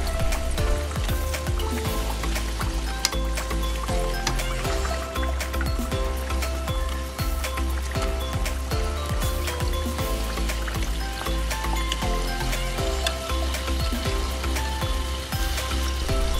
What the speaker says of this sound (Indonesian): kita goreng dengan api sedang sampai matang kecoklatan